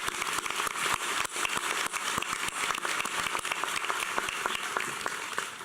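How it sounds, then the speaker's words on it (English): Applause for the faculty at a 2012 Shady Side Academy commencement, a sustained, crackling wash of many hands clapping from a large outdoor crowd, with individual sharp claps standing out near the mic. "How about a round of applause for this fabulous faculty?"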